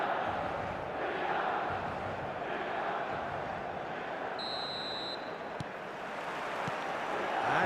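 A stadium crowd in the eFootball 2026 video game roars steadily throughout, a dense, continuous wash of massed voices with no break, holding at a loud, even level from start to finish.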